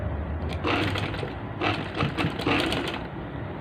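A sewing machine runs in steady bursts while stitching a ladies' shirt, its motor whirring and the needle chattering rapidly in three or four close, loud runs with brief pauses between.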